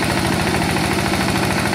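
A tractor engine runs steadily while working muddy soil, a continuous loud low rumble with a throbbing pulse and broad mechanical noise, no speech present.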